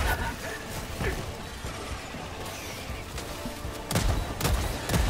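Rapid bursts of cannon sentry fire in Helldivers 2 crackle over a busy battle din, with a couple of louder blasts near the end.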